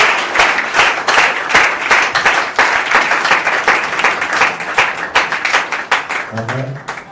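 A church congregation at a Sunday service bursts into sustained, dense applause, many hands clapping loudly and evenly throughout, with voices briefly rising near the end.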